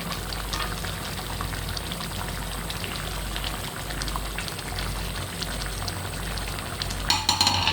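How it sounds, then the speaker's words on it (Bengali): Garam masala is stirred into vetki fish bhuna as it cooks in the pan. A dense bubbling sizzle runs steadily and close, and louder scraping and stirring comes in near the end. "গরম মশলাটা তরকারির সাথে মিশিয়ে দিলাম"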